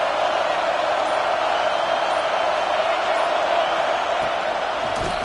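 A college football stadium crowd at an Oregon versus Clemson game roars in a sustained, dense wash of cheering and whooping on a third down, loud and continuous throughout.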